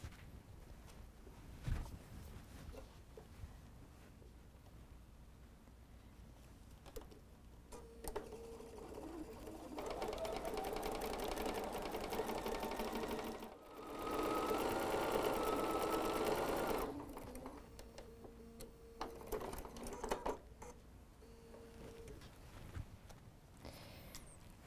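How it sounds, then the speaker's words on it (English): A sewing machine stitches fabric for a fat quarter tote in two steady close bursts of whirring, with a brief pause between them, framed by quieter handling and fabric rustle. "just sew it exactly on that line"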